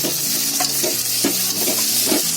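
Chopped tomato fries in a hot pan for ridge gourd bharta, giving a steady, dense sizzle close up with soft stirring scrapes and clinks spread through it, and no voices.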